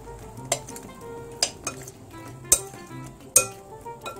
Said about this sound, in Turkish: Şimdi hemen mantarlarımı da sosumun içerisine atıyorum. Onları da sosa buluyorum.